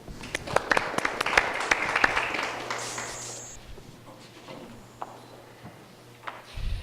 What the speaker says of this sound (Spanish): Por favor, un fuerte aplauso, señor Enrique Núñez Quirós.